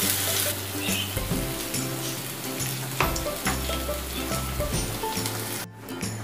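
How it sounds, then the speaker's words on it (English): Onions sautéing in a pan as a sauce is prepared, a loud, close, continuous crackling sizzle with occasional stirring clatter and no talking. "We have to saute this until it is translucent."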